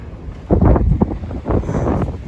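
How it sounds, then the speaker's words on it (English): Wind blasts across the microphone in loud, low rumbling gusts over a couple of seconds. "Windy."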